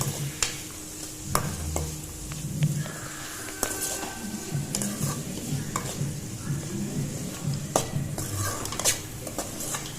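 Chopped tomato sizzles and fries in a pan for chitranna, with a steady crackle broken by frequent scraping and clinking of a stirring spoon against the metal, close and clear with no voices.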